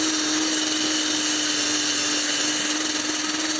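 An electric drill fitted with a wire brush scrubs grime off a Znen Tommy 125 scooter engine during restoration, giving a steady, close, loud whine with a constant motor hum and no breaks.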